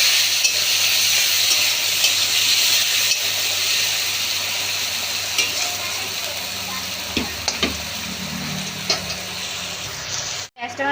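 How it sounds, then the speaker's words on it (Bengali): Chopped large onion frying in a pan, a continuous close sizzle and hiss with scattered stirring clicks and taps, easing slightly toward the end before a sharp knock. "এখানে একটা পেঁয়াজ আছে বড় সাইজের, পেঁয়াজটা ভেজে নেব।"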